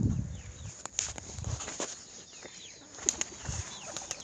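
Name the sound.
two pigeons flapping wings on a roof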